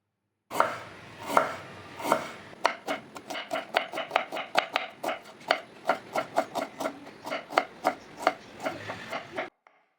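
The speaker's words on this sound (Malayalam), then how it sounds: "അപ്പോൾ ഇനി ഇതൊന്ന് നൈസാക്കിയിട്ട് കട്ട് ചെയ്തെടുക്കണം." Peeled ginger is sliced thinly into rounds with a knife on a board. There is a long run of crisp, close chopping taps, irregular at first, then quick and even. No one speaks.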